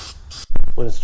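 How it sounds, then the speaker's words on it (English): An aerosol can of anti-rust restorer hisses onto the cab corners of a 1988-98 Chevy Silverado in two quick, loud bursts, followed by a brief voice. "I'm just spraying the hell out of it"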